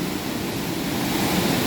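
Waterfall near a swimming spot in the hills of Chiang Mai, Thailand, heard as a steady, loud, broadband roar of rushing water that holds unchanged throughout.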